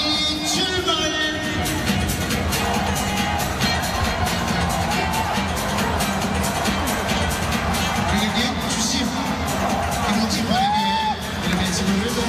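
Stadium crowd at the Suwon derby football match, a big mass of fans cheering, whooping and applauding loudly and continuously, with a voice over the public address and scattered shouts.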